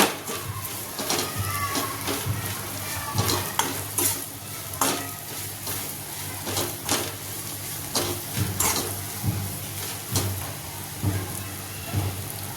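Leftover roti pieces tossed with spice masala are stirred in a pan: a continuous soft sizzle with repeated spatula scrapes and clinks at an uneven, steady rhythm, close and moderately loud, without talking.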